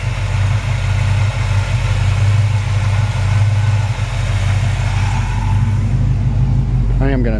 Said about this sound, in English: Listen to that engine, so clean.